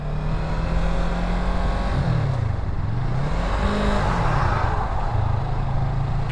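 A Yamaha MT03 motorcycle engine drones steadily close up, pitch rising and falling as the rider revs and shifts, with strong wind rush over it throughout.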